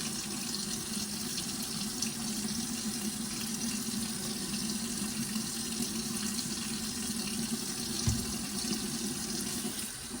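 Cool tap water runs steadily from a faucet, rinsing shampoo out of a human hair lace top wig pinned to a plastic mannequin head, a continuous close splashing flow with one brief knock near the end.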